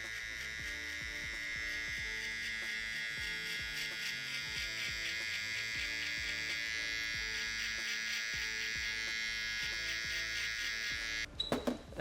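An electric shaver buzzes steadily and close during a barber's V-fade haircut, a constant high whine with small shifts in pitch as it works, cutting off abruptly near the end.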